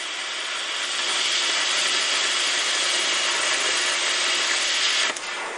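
A plasma cutter guided by a Plasma Wiz circle guide cuts a circle, giving a loud, steady, hissing roar that holds without a break for about five seconds and then cuts off abruptly near the end.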